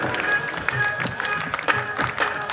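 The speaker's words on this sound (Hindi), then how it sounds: "तालियों की सेवा करते रहे" A crowd claps along in steady rhythm during a Hanuman bhajan at a Khatu Shyam temple, with dense handclaps mixed with a sustained musical tone and background voices.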